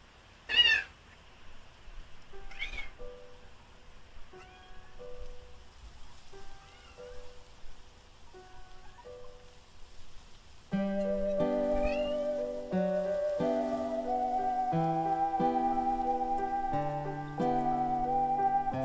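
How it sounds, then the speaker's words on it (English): A cat meows several times alone, loud at first and then softer, before steady music takes over and continues beneath a few more faint meows. "Why are you meowing on my bed, you good cat?"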